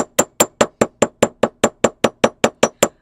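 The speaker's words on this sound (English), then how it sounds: "So I'm just going to texture it with my chasing hammer" A chasing hammer strikes a metal pendant for a pennant necklace, texturing its surface with about fourteen evenly spaced, crisp metallic taps in a steady rhythm, close and clear.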